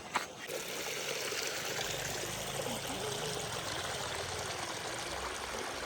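Water runs steadily from a channel into a muddy rice paddy in rural Konkan, a soft continuous trickle and gurgle heard close and fairly quiet, alone after a brief knock at the start.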